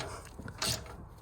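A ratcheting wrench tightens the exhaust clamps on the rear silencer of a Ford Mondeo Mk3 2.0 TDCi estate, giving a few quick close metallic clicks and then a brief sharper rasp.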